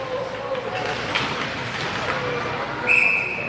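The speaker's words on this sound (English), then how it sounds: "And that'll get covered for a whistle." A referee's whistle at an ice hockey game between the Scorpions and Pioneers at River Valley Civic Center during a power play. It gives one sharp, shrill blast near the end, cutting over steady arena crowd noise.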